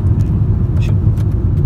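Steady low engine rumble and road noise fill the inside of a moving car, with a few faint clicks and knocks over the continuous drone.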